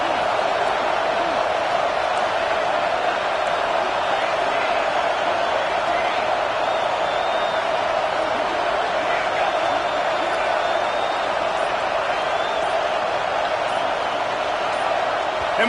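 Loud, continuous roar of a packed stadium crowd at a college football game between SMU and Texas A&M, a dense steady wash of noise with no breaks, swelling as the offense lines up on fourth down.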